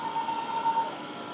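Sentosa train pulling away after its doors close, a steady rumbling rail hum with a faint tonal whine near the start, running continuously at moderate level.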